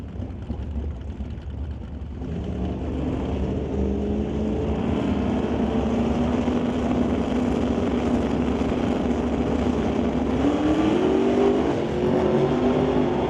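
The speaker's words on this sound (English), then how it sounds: "Both turbocharged combinations getting brought up to the line." Turbocharged Fox body Mustang drag cars idle and rumble at the starting line of a drag strip, a loud steady engine drone with rising revs and whine building toward the end, no talk.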